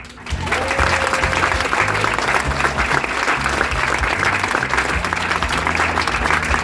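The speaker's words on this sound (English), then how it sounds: "by a round of applause" A crowd at a sand sculpting competition breaks into loud, sustained applause, dense clapping that starts abruptly and holds steady throughout, with faint voices mixed in.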